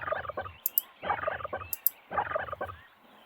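Turkeys gobble in the King of the Hill PC game, three loud rattling gobble calls in steady succession, close and clear with no talking.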